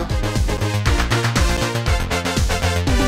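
Electronic track played through an SSL mastering EQ, a loud, dense mix with a driving, evenly pulsing beat, deep bass hits and bright upper layers running continuously for about three seconds.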